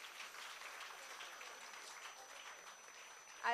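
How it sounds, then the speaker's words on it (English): An audience applauds a dancer at a Kathak debut recital, the clapping soft and distant with a steady texture before a louder sound cuts in at the end. "Can we please have a huge round of applause?"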